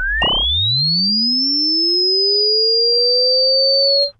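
Sine-wave synth tone from an Organelle 'Sine Surprises' patch: a pure pitch sweeping steadily upward over about four seconds after a brief burst, loud, clean and alone, then cutting off.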